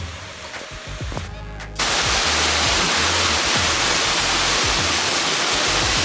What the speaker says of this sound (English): Made it to Cooperas Falls.